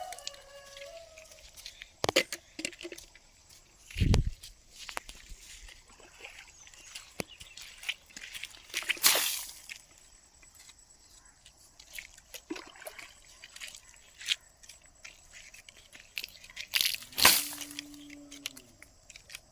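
Water poured out in several separate splashing bursts, likely from a jug, with short trickles and gaps of quiet between pours against a faint background.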